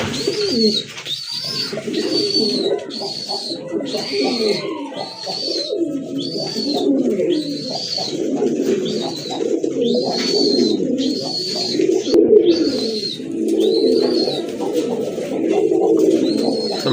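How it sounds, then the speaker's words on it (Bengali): A pair of Jacobin pigeons with very large feathered manes coo close by in repeated, steady rounds, with higher bird chirps mixed in throughout and no talking. "দেখেন এক জোড়া জ্যাকোবিন কবুতর, এত বড় কেশর"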